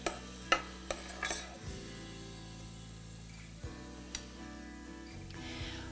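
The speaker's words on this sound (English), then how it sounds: "I'm going to add our barley, give it a stir, and let it saute for just a minute or two" Barley sautéing in a pan while being stirred, soft faint sizzling with a few sharp scraping and clinking spoon taps against the pan, under a low steady background hum.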